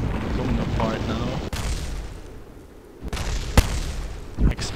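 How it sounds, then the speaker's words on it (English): Heavy booming spacecraft explosions in the video game Kerbal Space Program rumble in succession, with sharp cracks and bursts over a dense, roaring low-frequency wash. "Explosions following explosions."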